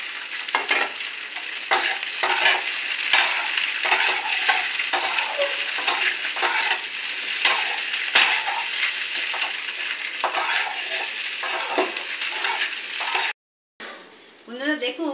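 Chopped tomatoes fry in a pan for pasta while a utensil stirs them steadily, producing a close, continuous sizzle broken by repeated scraping and tapping strokes, with a short cut near the end and a voice talking briefly afterward.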